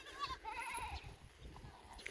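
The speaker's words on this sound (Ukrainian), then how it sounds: "Ні разу не бачила козу з чотирма, з чотирма козенятами." Goat kids bleating near a nanny goat with four young on a village farm, several short overlapping bleats repeating over a low rustling background, fairly faint and close.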